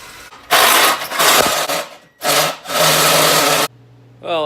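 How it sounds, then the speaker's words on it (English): A large hole saw cuts through a firewall for a charge pipe flange, loud grinding bursts with rhythmic rasping and a short pause midway, ending abruptly before a low hum and a faint voice. "we'll see how this goes, because it's a big ass hole saw"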